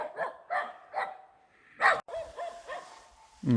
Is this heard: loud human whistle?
no